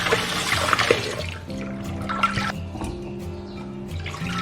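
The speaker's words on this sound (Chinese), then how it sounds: "我们现在给它淘洗一下。" Pork front ribs that had been soaked are rinsed in a basin, with running and splashing water close by. The washing sound is continuous, with light clinks and drips partway through.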